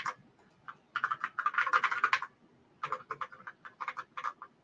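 Fingers type rapidly on a computer keyboard close by, producing bursts of quick clicky keystrokes separated by short pauses.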